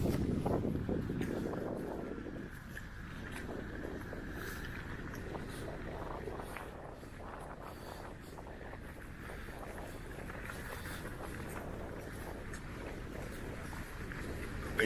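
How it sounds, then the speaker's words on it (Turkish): Steady, loud wind buffeting the microphone outdoors on Burgazada island, Istanbul, a continuous low rumble and roar with no pauses, throughout. "Çok rüzgar var. Sesle biraz problem olabilir."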